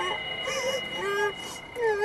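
A child cries in a Tamil horror TV serial, with a wavering, whimpering wail that rises and falls in pitch at moderate loudness.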